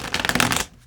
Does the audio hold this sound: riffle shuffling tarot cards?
yes